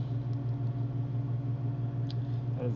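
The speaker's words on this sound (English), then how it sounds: "That is the heater, probably." A heater runs indoors with a steady, unbroken low hum and a faint rumbling drone that holds an even level throughout, with no voices.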